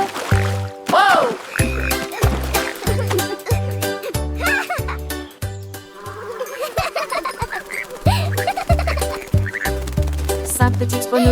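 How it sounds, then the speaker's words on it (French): Cartoonish frog croaks pop out repeatedly over a bouncy children's song with a steady thumping beat, loud and upfront in the mix. "Puis ils coassèrent une chanson et la nuit devint grise."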